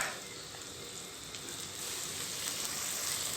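Sand shark fish stir-frying in a hot pan gives a steady, close, bright sizzle that holds an even hiss throughout and swells slightly louder in the second half, with no voices.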